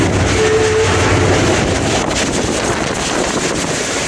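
A train on the Khanewal to Lahore line rumbles steadily along the rails while overtaking another train, a loud continuous roar mixed with heavy wind buffeting across the whole stretch.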